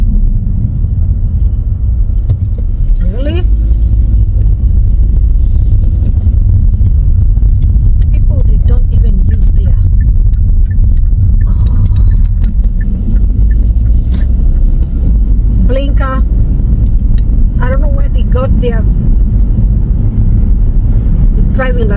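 A car drives along a road with a steady, loud low engine and road rumble throughout, and a person talks over it at times.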